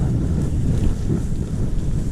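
A cool breeze blasts steadily across the microphone during a gravel bike ride through the countryside, a loud, continuous rumble of wind buffeting with no voices.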